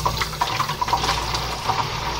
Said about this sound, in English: we're going to run some water through here.